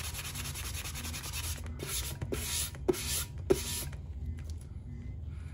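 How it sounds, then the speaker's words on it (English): An epoxy-coated tumbler being sanded by hand, with steady rasping strokes of rubbing that come in short bursts and then stop, close and fairly quiet. "So I'm gonna sand it real good."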